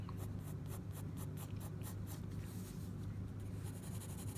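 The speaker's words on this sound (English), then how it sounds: "We want to properly shade it with a pencil" Graphite pencil shading across drawing paper to render a pumpkin, a steady close scratchy rubbing in repeated rhythmic strokes, with a low constant hum underneath.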